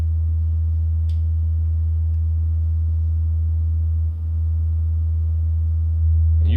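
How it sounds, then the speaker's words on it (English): A low sine-wave tone sweeps through a Rockford Fosgate car amplifier on a test bench, giving a steady, loud low hum that holds evenly, with a faint click near the start and no talking. "Sweeping through the frequency."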